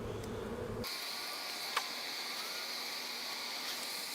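Honey bees buzz inside a hive at foraging time, a soft, steady drone with a faint high tone running throughout. The sound is quiet and close, with a brief louder rumble at the start and a single click partway through.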